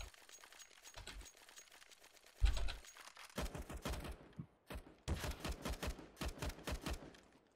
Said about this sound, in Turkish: Kafasından vurdum onun.